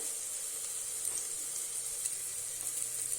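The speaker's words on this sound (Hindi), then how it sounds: "दस मिनट तक भूनेंगे ताकि प्याज हमारा गोल्डन कलर हो जाए।" Onions with Kashmiri red chilli, coriander, chilli and turmeric powders frying in a pan for a black chickpea curry, giving a steady, close, even sizzle with faint stirring, with no talk.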